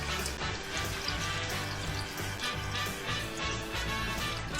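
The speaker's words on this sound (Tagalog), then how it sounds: "Ang gagawin ko ngayon ay lalagyan natin ng tubig." Water pours into a pot of pork estofado on the stove, a steady broadband splashing and gurgling rush that continues for several seconds, close and moderately quiet, with no speech over it.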